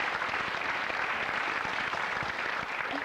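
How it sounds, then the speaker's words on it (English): A 1989 television game show studio audience breaks into steady, dense applause that holds at an even level throughout, with no talk over it. "Go on, give a round of applause for that."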